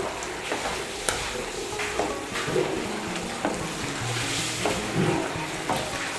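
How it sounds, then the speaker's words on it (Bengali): A fried spice mix is stirred into bottle gourd greens in a pan, with soft sizzling under repeated scraping clicks of a spoon against the pan at a steady, uneven rhythm, with no voices. "ভাজা মশলাটাকে মিশিয়ে নেব ভালো করে।"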